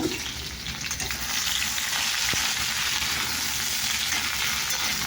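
Potatoes and green chilies frying in a pan give a steady, close hiss of sizzling oil that runs throughout, with a brief stirring scrape near the middle and no voices.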